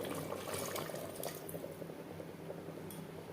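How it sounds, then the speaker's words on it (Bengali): Spice-rinse water poured into a pot of mutton and potato curry, a quiet, steady splashing and trickling pour that runs through the whole stretch. "মশলা ধোয়া জল অ্যাড করলাম"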